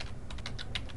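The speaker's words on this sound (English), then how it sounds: "I'm going to type" Rapid keystrokes on a computer keyboard while entering text in Excel, several crisp close clicks in quick uneven succession over a faint steady room hum.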